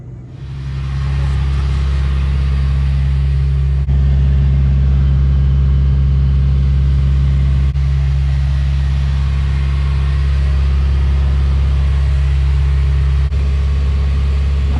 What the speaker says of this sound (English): I'm not gonna pass smog with this idle.